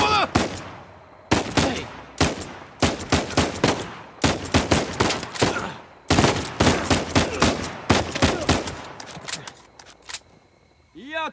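Repeated bursts of gunfire in the video game Uncharted 4 come in rapid clusters across the whole span, sharp and close, with short pauses between volleys.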